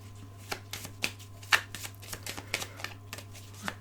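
Petit Lenormand cards being cut and shuffled, giving soft papery flicks and taps in a quiet room, with a low steady hum underneath.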